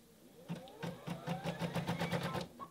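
A home embroidery machine stitches free-standing lace, its needle tapping in a fast, even rhythm with a soft mechanical whir, close and fairly quiet, starting after a brief pause.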